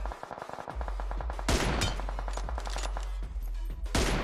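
Dense automatic gunfire rattles through a PUBG Mobile firefight on the Livik map, with rapid bursts crackling over a low rumble and sharp loud volleys returning after brief lulls.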